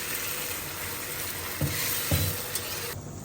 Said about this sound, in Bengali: বন্ধুরা শাক ভাজা করতেছি